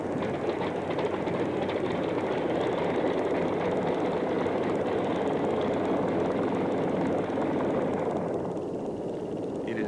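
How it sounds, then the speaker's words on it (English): A Beechcraft light aircraft lands at a Townsville airfield with a loud, steady engine drone that fills the whole stretch and eases slightly near the end, with no voices. "Flying is interrupted for a while as Beechcraft lands."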